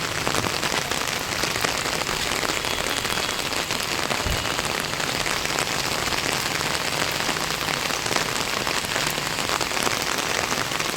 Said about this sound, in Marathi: पाऊस कंटिन्यू पडते